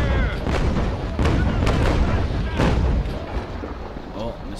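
Ship cannons fire in the Naval Action video game, aboard the frigate HMS Surprise attacking a Spanish snow. A series of heavy booms sounds close and loud, some overlapping, over rushing sea and wind.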